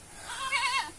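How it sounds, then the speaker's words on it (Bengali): A single goat bleats close by, one wavering, quivering call of about half a second that rises and falls before trailing off, heard alone without talk. "ছাগল"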